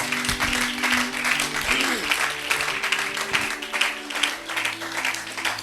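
Congregation at a church sermon applauding and cheering in praise of the Lord, a steady wash of clapping and crowd noise across the whole stretch with some voices mixed in.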